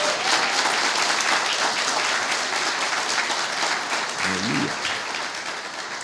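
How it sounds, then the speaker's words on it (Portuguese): Audience applause at a church service, steady sustained clapping from a crowd at moderate loudness, with a brief voice near the end. "aplauda bem forte ao Senhor"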